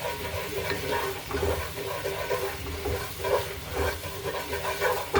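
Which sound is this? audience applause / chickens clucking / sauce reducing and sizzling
sauce reducing and sizzling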